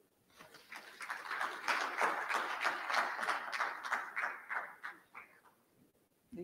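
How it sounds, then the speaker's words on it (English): A conference audience claps together in a dense burst of applause for a few seconds, then it thins out and fades to scattered claps. "Another round of applause for him"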